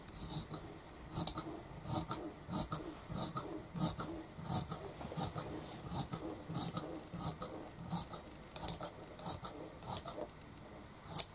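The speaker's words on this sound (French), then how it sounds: "je vais couper en laissant une marge couture un peu large" Scissors snip through skirt fabric while leaving a wide seam allowance, a steady series of short, crisp cuts repeating roughly every half second, close and fairly quiet with no talking.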